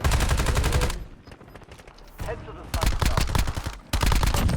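Rapid automatic gunfire in Black Ops 7, loud close bursts broken by short pauses, then resuming in repeated volleys while a player speaks.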